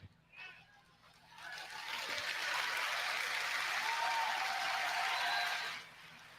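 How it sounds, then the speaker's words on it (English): An audience at the Final Fantasy XIV Fan Festival keynote in London bursts into applause, a dense, even patter of many hands swelling over a couple of seconds, holding steady, then stopping abruptly. "I don't think that deserved a clap"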